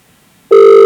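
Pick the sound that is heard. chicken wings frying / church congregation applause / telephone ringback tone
telephone ringback tone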